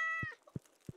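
A cat meows once in the farming video game Stardew Valley, a short, clear meow followed by three soft, evenly spaced low thumps.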